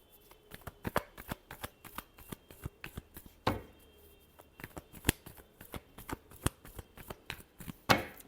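Tarot cards are shuffled in close, steady bursts of sharp slaps and riffles, one loud flurry standing out near the middle and another near the end, with no voices.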